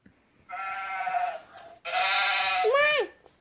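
A children's animal sound book plays a sheep's bleat in two clear electronic baa calls, the second ending in a wavering drop, close and loud in a quiet room, with faint voices around.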